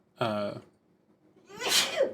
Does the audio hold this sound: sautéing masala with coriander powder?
no